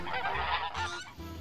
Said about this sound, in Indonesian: Wow, ini ada angsa.